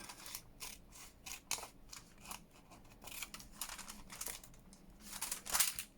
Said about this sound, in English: I'm going to cut it at the bottom